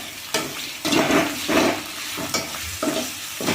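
Ground tomato paste is poured into a hot frying pan while making a Tamil egg fry, giving several short bursts of sizzling and splattering that flare up and fade, close and fairly loud, with no voices.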